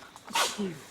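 A single short sneeze, close and fairly quiet, with a sharp burst followed by a brief trailing breath.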